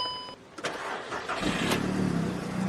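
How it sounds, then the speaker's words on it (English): A car's engine cranks with a short starter whir, then catches and settles into a steady running rumble, heard up close on a vehicle with a weak, non-charging battery at 11.4 volts. "So let's try and crank this thing."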